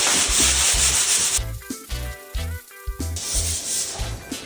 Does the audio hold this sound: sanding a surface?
yes